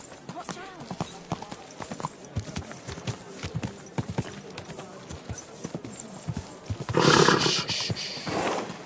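Horse hooves clip-clop at a walking pace in the video game Kingdom Come Deliverance 2, close and distinct, with voices talking over them and a louder noisy burst near the end.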